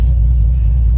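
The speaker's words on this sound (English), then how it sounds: "When I put this thing in drive, it's just shaking." A Procharged 2016 Corvette Z51 3LT, 850 hp, sitting in drive gives a loud, deep, steady engine rumble, close and continuous with no voices.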